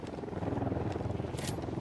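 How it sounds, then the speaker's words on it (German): Helicopter in the tactical shooter game Ghost Recon Wildlands, a steady pulsing rotor thump held at moderate, fairly distant level throughout, with no talk over it. "Ein Helikopter."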